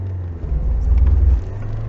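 A Lada Niva 4x4 on mud tyres grinds through mud in low-range gear, its engine giving a deep, close rumble that swells briefly as the revs rise.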